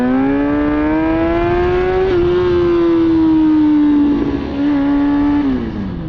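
Motorcycle engine on stock gearing held at a steady, loud, continuous drone, with slight shifts in pitch as the revs hold and then ease off near the end.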